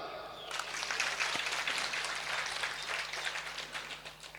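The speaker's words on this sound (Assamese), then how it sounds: "তো তালি মাৰো" Audience clapping at a Sankalpa ceremony in Gohpur, starting abruptly after a brief pause and holding as a dense, steady round of applause for about four seconds.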